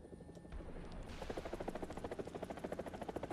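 Helicopter in the War Thunder video game, a rapid rhythmic rotor thumping that builds after a quieter start and stays loud and pulsing throughout.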